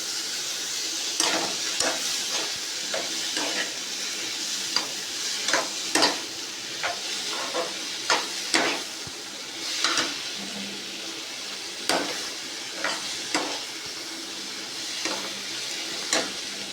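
Tomato chutney frying in a pan and being stirred, a soft steady sizzle broken by repeated scraping strokes and clicks of the spoon against the pan at an uneven rhythm, close up with no talking.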